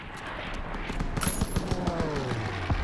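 Rapid gunfire from a mounted gun firing at Stuka dive bombers in Call of Duty WWII, sustained bursts over a dense battlefield din with engine drone and scattered explosions.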